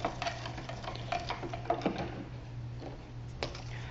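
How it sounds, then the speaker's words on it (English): A spoon stirs OxyClean paste in a container, giving repeated light scraping clicks and taps that come in irregular bursts over a steady low hum. "Keep stirring."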